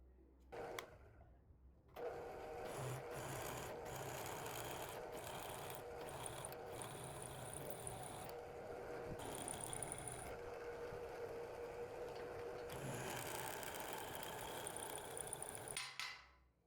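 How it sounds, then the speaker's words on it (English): A power drill with a 5 mm bit whirs continuously at close range while enlarging holes for a knife guard, its pitch and load shifting as the bit bores, with brief pauses near the start and end. "Here I am using a drill bit of about 5 millimeters."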